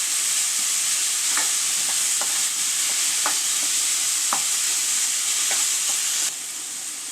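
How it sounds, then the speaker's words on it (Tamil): Potatoes and onions sautéing in a hot pan for a potato egg fry: a steady close sizzle with periodic scraping stirs from a spatula throughout, no talking. "இதையும் சேர்த்து நல்லா வதக்கிக்கலாம்."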